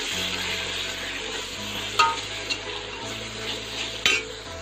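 Ginger garlic paste sizzling and frying in a pan while being stirred, with occasional clinks of a utensil against metal over a steady low hum.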